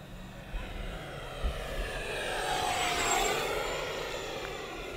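A radio-controlled 50mm electric ducted fan jet, an Arrows L-39 Albatros, makes a flyby as a rising and falling turbine-like whine over outdoor background noise, swelling as it passes and then fading.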